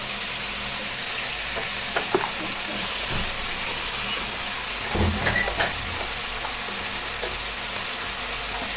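Chopped onions and green chillies sizzle in oil for a crab curry, a moderate even hiss with a few soft stirring clatters and thumps near the middle, no talking.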